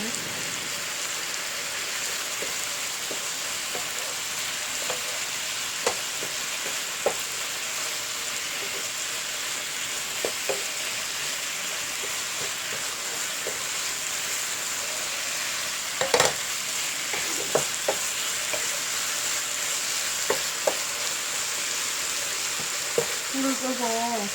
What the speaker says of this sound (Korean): 어묵을 넣습니다. 국물 넣고 볶아줍니다.